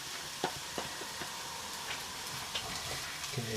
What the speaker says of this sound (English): Give it a good stir around.